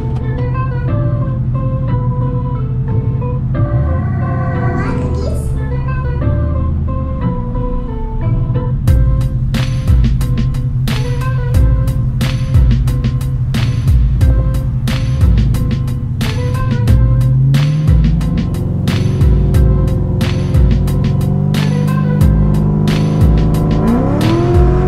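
A car out on a test drive accelerates loudly, the engine note rising and falling through the gears with steady road noise, and a couple of brief squeal-like tones appear partway through.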